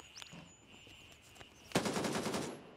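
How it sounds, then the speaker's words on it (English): A burst of rapid gunfire in Gray Zone Warfare, a sudden loud automatic volley cutting in after a quiet stretch of faint ambience and ringing tones. "Where did that shot come from?"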